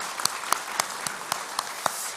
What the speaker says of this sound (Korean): 이 모든 사역을 이끄신 하나님께 영광의 박수 올려드리겠습니다.